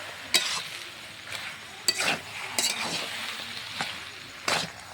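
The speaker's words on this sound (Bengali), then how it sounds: "চিংড়িগুলো দিয়ে দিয়েছি। নাড়াচাড়া করে নামিয়ে দেবো।" Jackfruit and shrimp curry being stirred in a pan: soft sizzling under intermittent scrapes and clinks of a spoon against the pan, close and fairly quiet, without talk.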